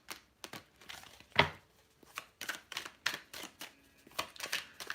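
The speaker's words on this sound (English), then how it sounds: "I want to make sure I give this a really good shuffle." Tarot cards being shuffled by hand, a series of soft, close riffling and slapping bursts with brief gaps between them, quiet overall with no talk.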